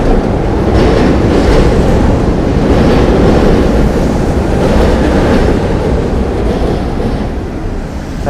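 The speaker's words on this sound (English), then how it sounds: "That sound you heard was the B&C train beneath us." A New York B/C subway train rumbles by beneath Central Park on a rainy day, a loud sustained roar with faint clickety-clack that holds steady before easing slightly near the end.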